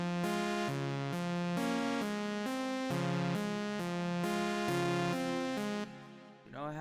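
Simple lead chords from the Nexus synth playing a smooth, steady repeating pattern of bright sustained chords for about six seconds, then cutting off with a brief noise at the end and no voices.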